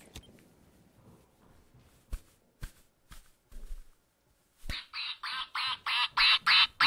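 In the video game Rainbow Six Siege, a duck-quack drum kit plays a run of rapid quacking hits after a few scattered thumps, the quacks getting louder and steadier toward the end. No talk is heard.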